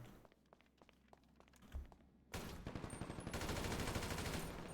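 Gunfire in GTA V Online, starting as scattered taps and thuds, then swelling into a dense, loud, sustained rattle of rapid shots that holds steady to the end.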